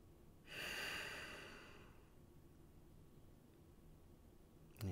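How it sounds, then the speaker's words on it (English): A single slow breath during yoga practice, an audible exhale that rises softly and fades over a couple of seconds, close and quiet against faint background hiss. "Just breathe."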